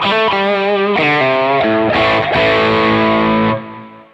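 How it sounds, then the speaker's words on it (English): Electric guitar played through a Boss SD-1 overdrive pedal, a series of loud, gritty sustained chords and notes ringing out before fading at the end. "Now you can hear the SD-1 has got more gain"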